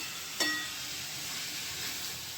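Ginger garlic paste sautéing in hot oil in a pan for paneer masala, a steady broad sizzle with a brief sharp hiss as it hits the oil, holding evenly throughout.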